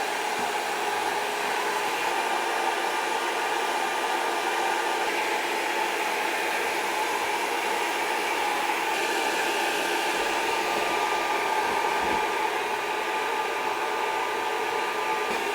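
An Atomstack X20 Pro laser engraver runs while cutting into wood, giving a steady, loud, unbroken whirring hiss of fan and air-assist noise throughout, with no voices.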